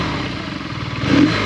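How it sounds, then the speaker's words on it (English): A BMW R nineT motorcycle on its stock exhaust idles with a low, close, lumpy thrum, then takes one short blip of the throttle that swells the exhaust note for a moment before it settles. "If I just give it a little rev"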